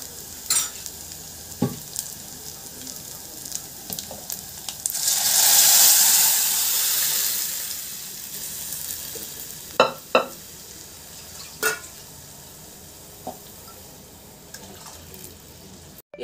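Lentils tipped into a hot tempering of fenugreek-leaf dal sizzle, with a brief loud hissing burst as they hit the oil, then quieter frying and a few sharp clanks and scrapes of stirring, close up, no talk.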